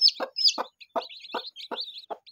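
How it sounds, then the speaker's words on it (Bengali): A hen with newly hatched chicks clucks in six steady, evenly spaced bursts over about two seconds, each cluck paired with thin, high peeping from the chicks, close and clear with no talking. "মুরগির বাচ্চা"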